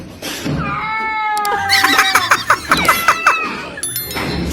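A frightened cat gives a drawn-out, wavering yowl, then a quick run of sharp, loud squealing cries at close range, with no talk over it.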